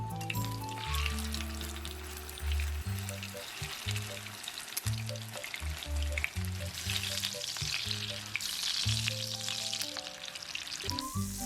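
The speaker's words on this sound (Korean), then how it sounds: "튀김옷은 오직 달걀만, 그리고 약한 불에서 튀겨줍니다." Chicken breast cutlet coated only in egg sizzles in a small frying pan with a little oil over low heat, a steady crackling fry with soft stirring and scraping, close and continuous with music playing underneath.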